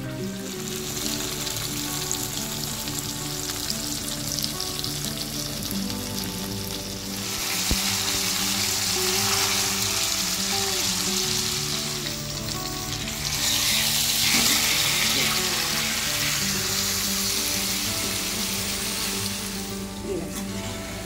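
A whole 1.5 kg red snapper frying in a pan gives a loud, dense sizzle that holds steady and swells in two bursts. A low hum runs beneath it.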